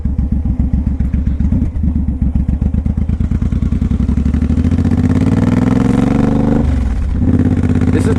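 A 2014 Suzuki M109R BOSS cruiser motorcycle rumbling loud and close, its engine pulsing in a steady low beat that rises into a smoother drone as it accelerates, with a brief dip as it shifts gears.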